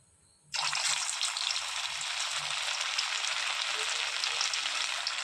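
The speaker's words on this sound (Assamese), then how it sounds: "এতিয়া তেলত দিবলৈ যাম।" Chicken keema pakodi balls dropped into hot mustard oil set off a sudden loud, steady sizzle after a short quiet start, crackling evenly and close up throughout.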